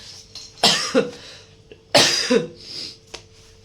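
Two separate coughs from a person with a cold, each a harsh close burst with a short follow-up hack, spaced about a second and a half apart in a quiet room.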